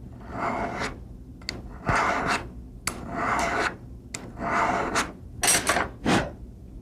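A metal file rasps across the hammer of a Wilson Combat 1911 pistol in repeated short strokes with brief pauses, close and fairly quiet.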